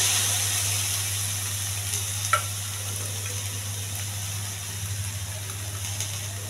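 Boiled chickpeas fry in a pan with a steady, close sizzle and soft stirring scrapes, a constant hiss over a low hum, with one brief clink partway through.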